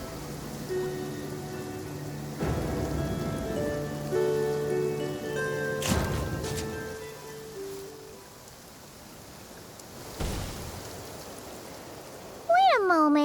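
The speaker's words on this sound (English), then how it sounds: "Rain. My hair and feathers are gonna get soaked." Steady rain falling in the video game Genshin Impact, a soft continuous hiss running throughout beneath game music, with a few brief louder bursts and a chime near the end.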